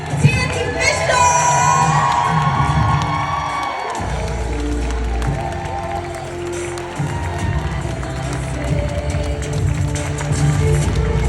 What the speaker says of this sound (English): Will you please give a thunderous round of applause and standing ovation